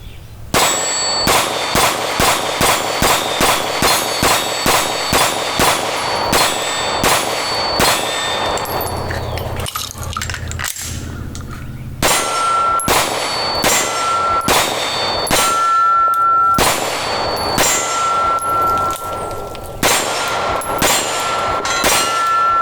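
A SIG P365 XL pistol with 15-round magazines fires rapid strings of loud shots at an outdoor range, each followed by the bright ringing clang of struck steel targets, with a short pause between strings.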